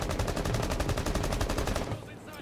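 Rapid automatic gunfire shooting through a wall in Rainbow Six Siege, a fast even burst of about twenty shots lasting two seconds, then stopping abruptly.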